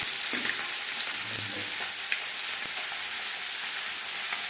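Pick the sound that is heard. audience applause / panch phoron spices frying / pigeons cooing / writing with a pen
panch phoron spices frying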